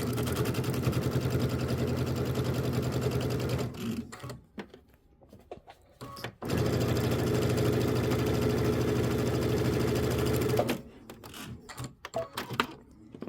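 A home sewing machine runs in two long steady bursts while chain piecing small quilt blocks, its motor whirring with a rapid stitching rattle, separated by quieter pauses filled with handling clicks and fabric rustle.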